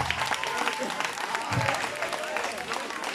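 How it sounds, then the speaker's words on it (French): A crowd claps steadily for the third-place finisher at a soapbox pushcar race in Villardonnel, France, the outdoor applause dense and continuous with a few voices mixed in. "Monsieur Lionel Duazé, on applaudit."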